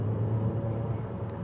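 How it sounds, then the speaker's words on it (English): A 2027 Infiniti QX65 Autograph accelerating, heard from inside the cabin as a steady, fairly loud low engine and road rumble that holds evenly throughout, with no talking. "And also, you can go ahead and accelerate it."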